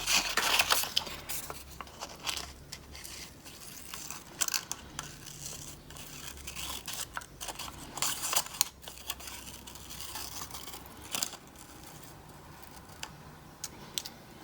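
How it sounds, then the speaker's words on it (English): Scissors snip out a small oval pig nose from a paper scrap, giving quiet, irregular crisp clicks and paper crinkles, close and faint, with no talking. "I'm going to cut out a little piggy nose, so it's just a little oval."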